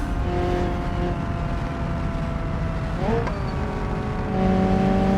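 A car engine in BeamNG.drive on the East Coast USA map droning steadily under heavy throttle, with a brief pitch shift midway and a louder push near the end, close and constant.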